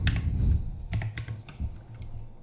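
A few quick keystrokes on a computer keyboard enter a number, producing close, crisp clicks in a short irregular run with no talking.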